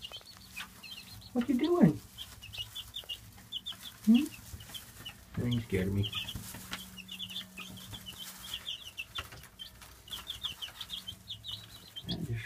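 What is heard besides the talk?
chickens clucking and scratching in a coop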